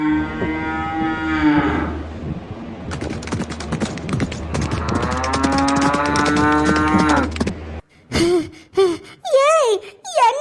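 Cartoon bullock mooing in long, drawn-out, wavering lows, several calls in a row, loud and close, followed by short bursts of a high, sliding cartoon voice.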